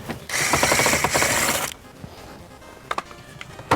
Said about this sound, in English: All we have to do is pop out the few screws that are in here.